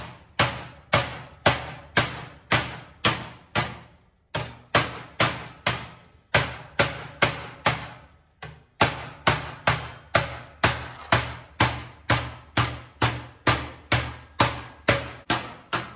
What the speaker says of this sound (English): So I'm just going to work my way across, knocking her down little by little.